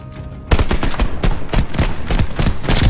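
Rapid automatic gunfire in a multiplayer video game bursts in after a quiet half second and continues as loud, close, repeated volleys of shots.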